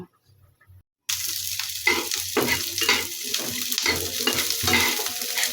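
Dried shrimp with garlic and onion hits hot mustard oil in a pan and starts crackling after a short quiet pause with a low hum. A loud, close, continuous sizzle follows with irregular spitting pops.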